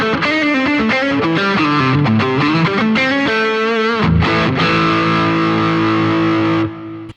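An overdriven Telecaster electric guitar with active pickups, played in the middle pickup position with a boost pushing the gain further, plays a run of distorted chords and notes before ringing out and cutting off.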